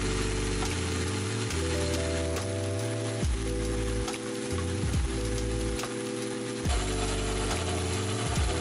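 A home-built letterpress running on auto feed gives a steady, repeating mechanical cycle. Rhythmic clacks and ratcheting strokes fall about once a second over a continuous motor hum, close and alone.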